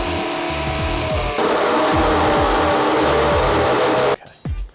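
Power drill boring a hole through the back of a ute canopy: a loud, steady, close mechanical whine that shifts pitch partway through, then stops abruptly with a few short bumps of handling.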